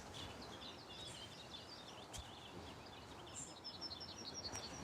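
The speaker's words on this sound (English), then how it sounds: "It's worth coming here just to listen to the birds." Faint bird chirps and trills flutter above a steady background hiss, several calls overlapping at a distance.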